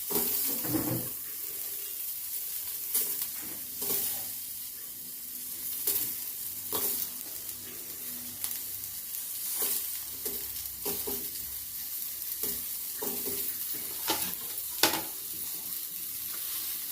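Onions frying in a pan for Nellore-style pappu pulusu, a continuous close sizzle broken by repeated scraping stirs and clinks of a spoon against the pan.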